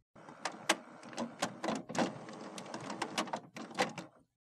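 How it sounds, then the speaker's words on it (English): An HP Officejet 7610 inkjet printer whirs and clatters through a start-up cycle, with a rapid series of sharp mechanical clicks and motor bursts, close by, then falls silent. "Wait for the printer to turn on and stop making noise."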